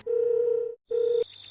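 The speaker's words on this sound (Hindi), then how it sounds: "फिर से दोस्त को फोन किया।" A steady telephone dial tone hums loudly, breaks off briefly, then returns before cutting to a faint higher tone, in a Hindi horror cartoon phone call.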